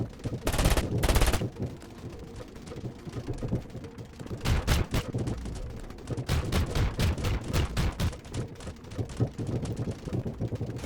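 Rapid bursts of gunfire from the Roblox shooter Arsenal, loud and close, with a dense volley early on, then repeated single shots and quick clusters through the rest of the stretch, no talking.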